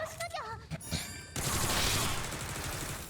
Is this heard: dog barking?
no